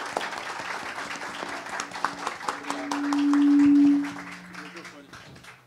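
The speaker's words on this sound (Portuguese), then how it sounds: "Por favor, uma salva de palmas ao Haddad." An audience at a science-themed election interview applauds the arrival of presidential campaign coordinator Fernando Haddad, a steady spread of clapping with a sustained tone rising briefly in the middle and voices audible underneath.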